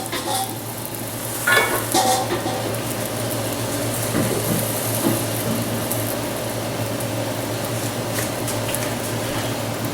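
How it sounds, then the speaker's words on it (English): Flatbread laid oil side down in a hot steel pan gives a steady, fairly loud sizzle that fills the whole stretch, with a few brief scraping and shuffling touches early on and a low constant hum underneath. "I've got a hot steel pan. I put the oil side face down."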